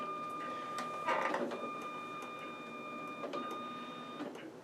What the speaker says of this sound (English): the servo will calibrate itself by moving the rudder to -70 and +70 degrees,